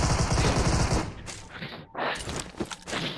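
Rapid bursts of small-pistol gunfire in a video game, loud and dense for about a second. After that come scattered thuds and shots at a lower level.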